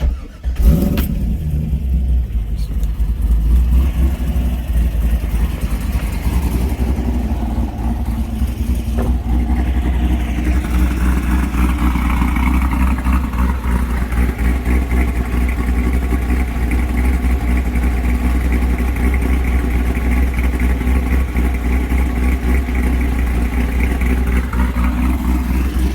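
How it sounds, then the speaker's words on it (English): A C5 Corvette V8 with heads, cam and intake modifications idles with a deep, lumpy, choppy rumble, starting up and then holding a loud, steady, loping idle close by. "what the engine sounds like with my heads cam intake"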